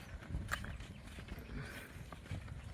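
A horse walking outdoors, its hooves clip-clopping in an uneven steady rhythm at moderate distance amid background noise, with no talk.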